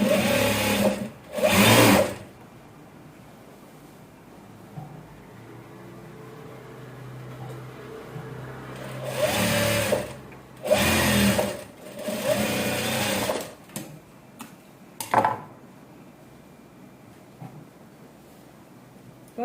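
Sewing machine stitching a blouse in several short bursts of rapid whirring, separated by quiet gaps, with the final bursts brief and clipped.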